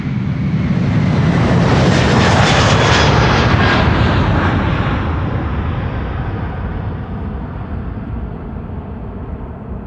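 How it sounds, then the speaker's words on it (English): A Boeing 787-10 Dreamliner jet passes nearby at Amsterdam Schiphol Airport, its loud, broad engine roar strongest early and then gradually thinning and receding across ten seconds, with no voices. "the SNN 787-10 Dreamliner coming this way"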